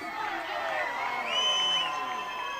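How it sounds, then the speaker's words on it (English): Washington Huskies fans at an NCAA softball game against UCLA in 2019 chanting and cheering together in the stands, a sustained, distant crowd of voices rising and falling with whoops. "They do their little Australian cheer."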